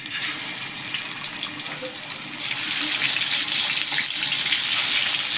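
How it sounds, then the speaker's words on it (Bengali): Salted, turmeric-coated fish hissing in hot oil, a steady close sizzle that grows louder and brighter about halfway through, with no voices. "তেলটা গরম হয়ে গেছে। এবার মাছগুলো আমি ভেজে নেব।"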